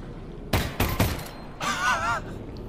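Video game gunfire: three sharp, loud shots spaced a fraction of a second apart, then a warbling, wavering electronic tone that swells and fades, with no talking.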